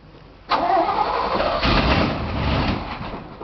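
A Chevy truck fitted with glass pack mufflers cranks and fires up inside a big barn, the starter catching abruptly and the engine settling into a loud, throaty, rumbling idle close by.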